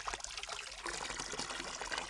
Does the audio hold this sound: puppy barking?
no